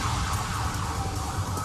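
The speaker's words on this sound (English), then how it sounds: "there's an ambulance flying right by me" An ambulance siren wails steadily as it passes, heard continuously over road and traffic noise in an urban setting, fairly faint and without pause.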